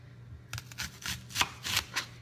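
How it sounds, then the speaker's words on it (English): Quick, light strokes of a knife cutting thin slices of peppers and onions on a cutting board, about eight soft taps in an irregular rhythm, close and fairly quiet. "from here I like to cut relatively thin slices"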